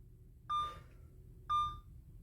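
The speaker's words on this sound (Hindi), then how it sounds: "एक फर्स्ट मोड पे जब आप उसको ऑन करते हैं तो ये बीप्स होती हैं" A car jump starter beeps twice when switched on, two short clear electronic tones about a second apart, close by over a low background hum.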